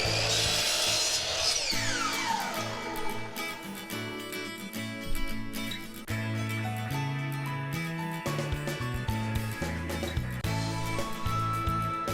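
Wooden dowels being cut with a saw, a run of repeated rasping strokes with a few brief pauses, close and clear, with nobody speaking.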